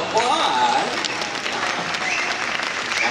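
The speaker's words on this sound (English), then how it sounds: "Let's give her a nice round of applause." Steady applause from a zoo dolphin show audience fills the whole moment, with a few excited voices and whistles rising briefly near the start.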